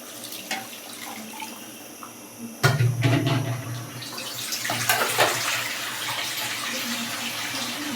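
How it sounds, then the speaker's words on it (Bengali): Water poured into a pan of braised beef liver, a sudden splashing pour that starts partway through and continues as a steady, close rush of liquid. "এখন এই যে পানি দিয়ে সিদ্ধ হতে দিব"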